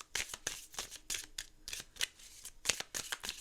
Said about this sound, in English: I'm just going to shuffle, and then we're going to pull a card.